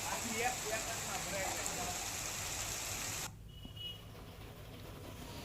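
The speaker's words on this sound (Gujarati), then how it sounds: "વરસાદ વરસી રહ્યો છે" Rain falls in the Gir forest villages as a steady, soft hiss that cuts off abruptly partway through, leaving a quieter background.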